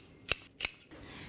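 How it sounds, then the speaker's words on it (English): Two crisp, sharp snips of kitchen scissors cutting through red and green chilies, evenly spaced and close, with near quiet between. "I'm gonna use my trusty scissors, just cutting these through."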